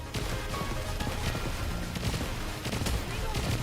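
Dense gunfire in the video game Nikke, rapid overlapping shots and bursts in a continuous barrage, loud and close, with battle crashes and voices mixed in.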